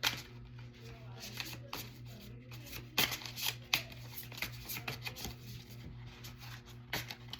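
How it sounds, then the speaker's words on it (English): A deck of cards being shuffled by hand, with repeated riffling bursts and soft slaps at close range over a steady low hum, with no talking. "So we shuffling now."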